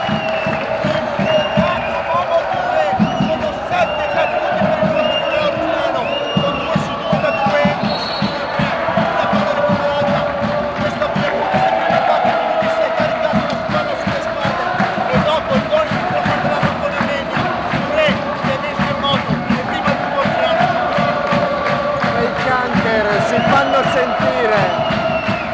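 Omegna basketball supporters cheer and chant loudly and steadily throughout a game against Orzinuovi, with a dense crowd roar, rhythmic clapping and bouncing balls under continuous commentary.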